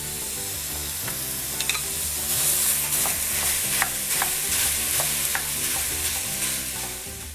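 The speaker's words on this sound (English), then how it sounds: "In a heavy bottom pot over medium-high heat, you're going to brown 1 pound of ground beef" One pound of ground beef browns in a heavy bottom pot over medium-high heat, a continuous close sizzle overlaid with repeated spoon scrapes and taps as the meat is stirred.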